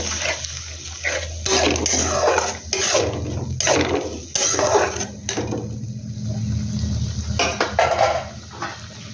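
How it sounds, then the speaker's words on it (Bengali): Mutton curry in a pot has water added and is stirred, giving repeated clanks and scrapes of a utensil against the metal pot over a steady low kitchen hum, with no talking. "প্রথমে অল্প জল দেবো, অল্প জল দিয়ে এটাকে একটু ভালো করে নেড়ে নেব।"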